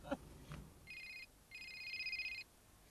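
A telephone rings in two electronic trilling bursts, the second longer, heard clearly at moderate distance after a couple of brief faint knocks.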